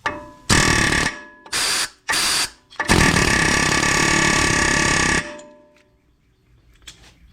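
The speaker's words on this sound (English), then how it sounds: "use an air hammer to break the surface tension here" Loud pneumatic air hammering on a brake rotor of a 2014 VW Tiguan R-Line in several bursts: short blasts, then a long sustained rattling run, with quieter clanks after it stops.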